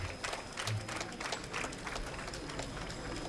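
Audience clapping at a 50th anniversary event, a fairly faint, scattered round of applause with uneven bursts that fades toward the end.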